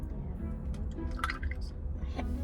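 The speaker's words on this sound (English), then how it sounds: "I'm feeling a little cautious here about this pouring situation." Iced coffee is poured into cups, producing close, uneven dripping and splashing liquid sounds over a low rumble, with no one speaking.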